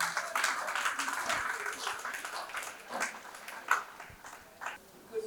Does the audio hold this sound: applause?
yes